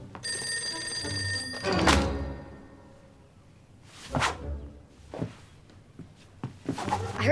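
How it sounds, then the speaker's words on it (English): A telephone rings in a quiet room, a short bell-like burst followed by a few softer thuds and movements, with no talk over it. "Oh, the phone."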